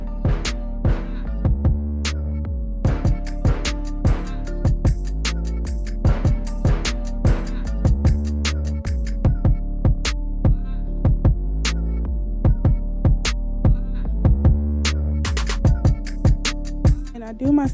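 A sewing machine stitches a straight seam down the middle of fabric with a steady throbbing motor hum, punctuated by regular needle clicks and short stop-start breaks.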